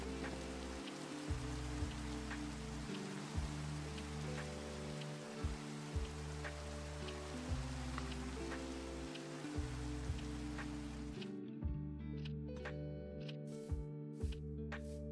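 Steady rain hisses and patters in a video game over a soft looping tune with repeated low thumps, then stops abruptly near the end, leaving only the music.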